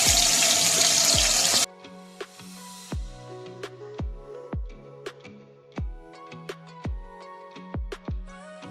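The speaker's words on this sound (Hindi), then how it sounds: "अब इसको मज़ीद क्रंची बनाने के लिए हम दोबारा इसको डीप फ्राई कर रहे हैं" Battered fish sizzles loudly as it is deep fried a second time for extra crunch; a dense hiss of hot oil lasts about a second and a half before giving way to plucked, melodic background music.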